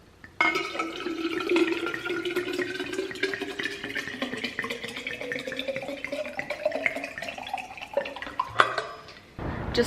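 Tap water runs steadily into an orange Hydro Flask bottle, the pitch of the pour slowly rising as the bottle fills, then the flow cuts off abruptly at the end.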